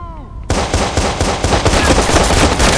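Rapid gunfire from the Watch Dogs video game, loud and close, a dense burst of automatic shots that starts abruptly and keeps going without pause.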